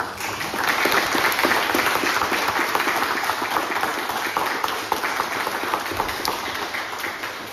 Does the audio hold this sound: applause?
yes